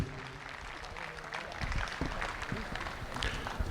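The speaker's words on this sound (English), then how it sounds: "I'd like everyone to give all these exhibitors a round of applause" Steady audience applause for dairy cattle show exhibitors in an indoor show ring, a dense patter of clapping that holds throughout and swells slightly toward the end.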